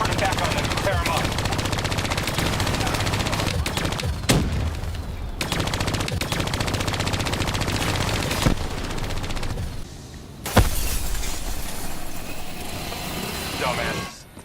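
Automated turret gunfire in Call of Duty: Black Ops 3, long loud machine-gun streams with a few sharp impacts between bursts and a short lull near the end, with voices talking beneath.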